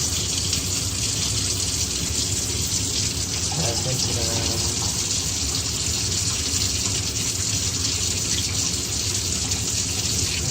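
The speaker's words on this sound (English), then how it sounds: "My stabilizer is right here. As I showed you before, I labeled everything. So I'm just going to pour this in here" Film stabilizer pours steadily into a film developing tank, a soft continuous splashing trickle close by, with no talking.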